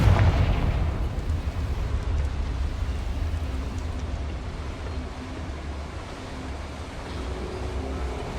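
A Confringo fire spell explosion in Hogwarts Legacy, a loud booming blast at the start that decays into a long rumbling roar slowly fading over several seconds.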